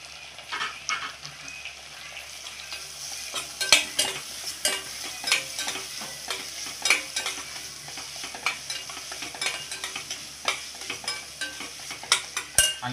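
Garlic and onion frying in hot oil for a Maharashtrian kaleji (liver) masala, with a steady sizzle and repeated scraping stirs of a spoon against the pan, close and continuous with no talk.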